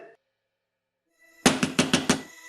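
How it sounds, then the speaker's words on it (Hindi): Five sharp knocks on a door in a rapid, slightly uneven series, close and loud after a brief silence, with no talking over them. "पायल दरवाजा खोलो"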